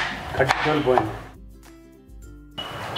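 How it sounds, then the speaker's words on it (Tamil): A knife cuts through tender jackfruit on a board, giving a few close, sharp chopping strikes, then a near-silent pause before another cut at the end. "இந்த மாதிரி கட் பண்ணும்போது இந்த சென்டரில் இது கொஞ்சம் ஹார்டாக இருக்கும்"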